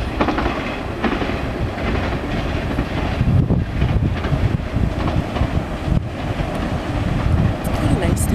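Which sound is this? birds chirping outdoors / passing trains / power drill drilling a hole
passing trains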